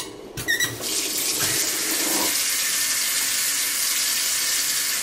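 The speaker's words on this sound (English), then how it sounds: "We gotta wash our hands first." A kitchen or bathroom tap runs as hands are washed before cooking homemade pizza, a quick squeaky turn of the handle followed by a steady, fairly loud stream of water splashing into the sink.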